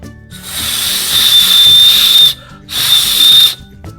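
A plastic Remco Mighty Crusaders toy shield blown as a whistle: two breathy, reedy blasts with a thin high tone, the first about two seconds long and the second shorter, close and fairly loud with a short gap between them.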